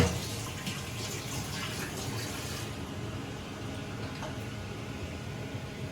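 Cold water poured into a pot lid set half-open over a pan of simmering mutton curry, a steady broadband rush running the whole time and easing slightly partway through.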